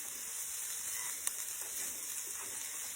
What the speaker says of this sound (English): sauteing those up in my garlic infused olive oil